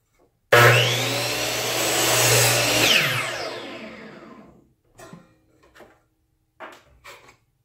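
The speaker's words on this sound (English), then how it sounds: "I'm going to spend some time only on the two side panels and the back panel over at the miter saw cutting everything to length" A miter saw spins up and bites through wood side and back panels, a loud whining cut for about two and a half seconds that winds down over the next second, followed by a few short clunks as the pieces are handled.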